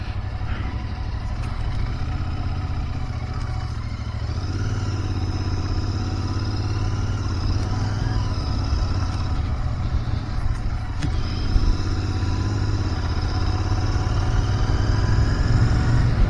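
A Royal Enfield Interceptor 650 motorcycle cruising along a smooth countryside road in Tamil Nadu, its engine droning steadily and loudly close by with wind rush, holding an even pitch throughout.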